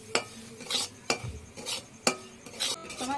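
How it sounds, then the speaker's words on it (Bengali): A bowl of semolina with a cardamom pod is stirred and fried in ghee in a kadai, a spoon scraping and clinking against the pan in regular strokes about once a second over a faint sizzle, with no voices. "সুজিটা আমি ভেজে নেব ঘিয়ের সঙ্গে"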